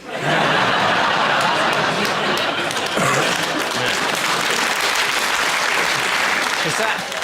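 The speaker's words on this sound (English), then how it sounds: "Is that a smattering of applause for..." Comedy panel show studio audience breaks into loud applause mixed with laughter and chuckling, a dense continuous roar close by with people talking over it.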